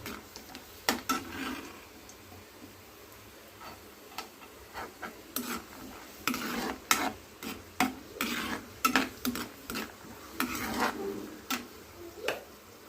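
Cashews fry in a pan over low flame while being stirred, giving soft sizzling with irregular scraping and clinking of the spoon against the pan. The sounds are close and fairly faint, with no talk.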